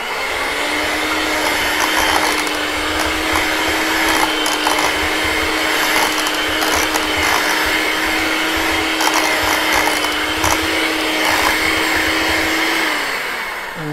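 Egg yolk is mixed into potatoes for shepherd's pie, heard as a loud, steady motor whir that holds unbroken from start to finish.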